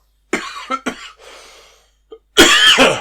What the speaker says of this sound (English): this random freaking cough that only appears when I do a podcast is here